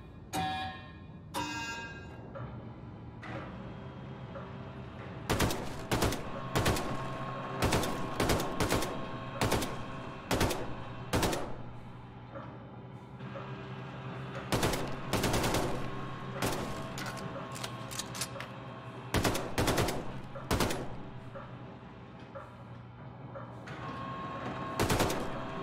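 Gunfire at a shooting range in Wolfenstein II: The New Colossus: sharp, loud single shots and rapid bursts crack out in irregular clusters over a low steady game hum.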